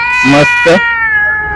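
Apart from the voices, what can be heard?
cat meowing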